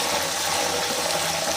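Salted water splashed into hot oil over frying cassava chips gives a loud, dense, continuous sizzling crackle, close up and unbroken.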